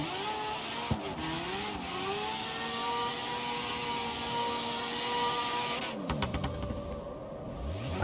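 Car engine in a racing video game, humming and revving with shifting pitch, then a burst of crackling exhaust pops near the end, fairly loud and up close with no talking.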